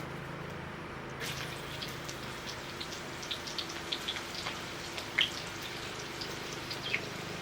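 Onions and garlic sizzle in hot oil while fried turmeric mushrooms are being made, a steady crackling hiss with scattered sharp pops that runs throughout at a moderate level.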